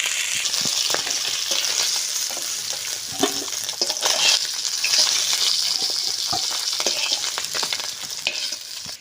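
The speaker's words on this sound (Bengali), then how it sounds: "শোল মাছগুলো একদম সুন্দর করে লাল মতো করে ভেজে নিয়েছি" Snakehead (shol) fish fry in oil with a steady, crackling sizzle, punctuated by frequent sharp pops and the scrape of stirring, all close and fairly loud with no voices.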